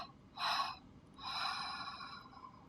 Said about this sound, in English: Final round. Inhale. And exhale. Pause. Fully empty.